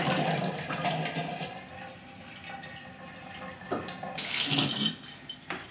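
Tap water running while a brass horn is rinsed under it, a continuous splashing stream that changes tone as the flow hits the metal, then surges brighter and louder toward the end.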